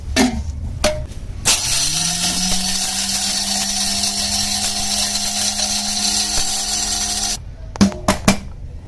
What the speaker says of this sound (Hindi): ये हमने अभी इसको कुटाई करके तो ग्राइंडर में डाल दिया, अभी इसको ग्राइंड करेंगे।